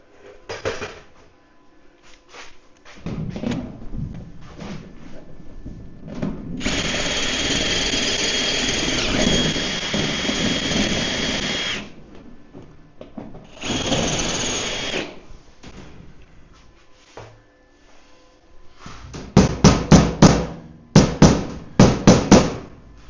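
A power drill enlarging a hole in a powder coating oven under construction, heard as a long, loud whining burst and then a shorter one, surrounded by scattered knocks and clatter of handled metal parts, with sharp rattling taps near the end.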